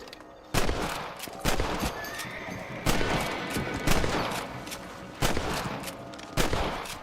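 Rifle fire from the Western game Red Dead Redemption as outlaws are shot, with sharp, loud cracks arriving in separated single and paired shots about a second apart, each ringing out over a quieter background.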